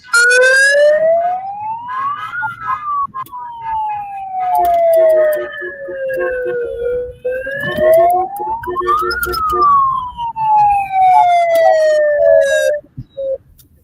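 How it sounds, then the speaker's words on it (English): A loud police-style siren wails at a kindergarten parade, rising and falling in slow sweeps, with scattered clatter and background noise around it. "That thing sounds just like a cop siren"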